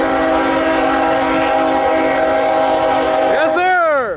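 A Norfolk Southern freight train with a Conrail heritage locomotive blasts its horn close by in a loud, sustained multi-note chord, the pitch sliding downward as it passes, with rumbling rail noise underneath and people's voices mixed in.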